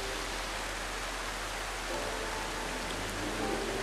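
Steady rain in the video game The Final Station, a loud, continuous broadband hiss of falling water that holds the same level throughout, with no voices.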